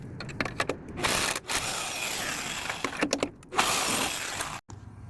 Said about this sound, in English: we want to take off these nuts